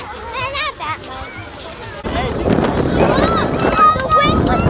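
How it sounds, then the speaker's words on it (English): Loud gusts of wind batter the microphone, strengthening halfway through, while voices and excited chatter are heard over it. "Oh, it's so windy!"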